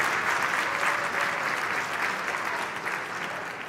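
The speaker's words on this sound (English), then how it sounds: "Let's give them a round of applause." A round of applause for the Children's Chorus of Washington at an anniversary gala, full and sustained clapping from a large crowd, fading slightly toward the end.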